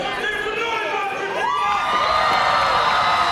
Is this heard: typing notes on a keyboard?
no